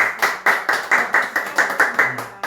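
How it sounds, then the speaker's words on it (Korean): A small church congregation claps together in a quick, even rhythm of about a dozen sharp beats, close and loud, then stops. "박수 영광 드리겠습니다"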